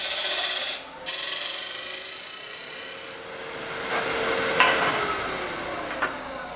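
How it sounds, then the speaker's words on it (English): A wood lathe turns a spinning piece of wood as a tool shapes it, producing a steady motor hum overlaid by a scraping, rasping cut that briefly drops out, then resumes with shifting tone. "I'm gonna crank my lathe back up and make a little alteration here."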